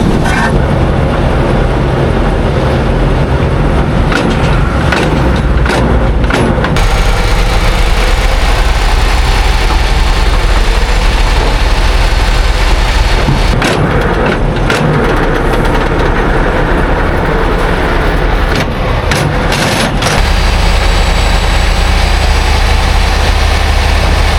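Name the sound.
old truck engine revving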